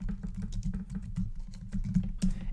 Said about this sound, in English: So just in the search box, I'm going to go ahead and type in Google Analytics